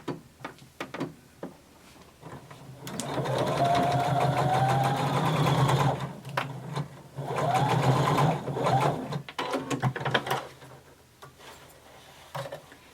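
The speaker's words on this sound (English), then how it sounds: "you're going to sew using 5/8 of an inch seam allowance" Sewing machine stitching a 5/8-inch seam in denim, two bursts of whirring motor with rising and falling pitch as it speeds up and slows, separated by quiet pauses and small clicks.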